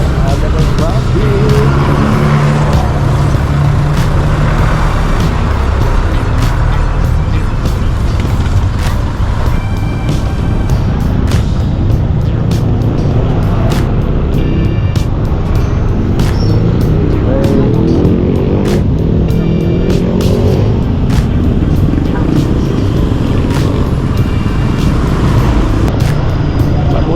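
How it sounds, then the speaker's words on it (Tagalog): Heavy road traffic in Lipa, Philippines, a dense continuous roar of car and motorcycle engines with vehicles passing close by, loud and steady throughout, with someone speaking over it. "Grabe ang haba ng traffic dito sa Lipa."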